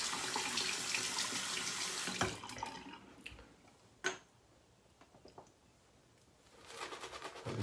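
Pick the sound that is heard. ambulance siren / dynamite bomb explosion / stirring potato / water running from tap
water running from tap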